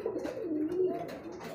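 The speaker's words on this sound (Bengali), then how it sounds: "এখানে আরো এক জোড়া কবুতর, আকাশি কালারের মধ্যে রাজগোল্লা কবুতর" A pair of sky-blue Rajgolla pigeons coo nearby, with a low warbling call rising and falling almost continuously and no speech.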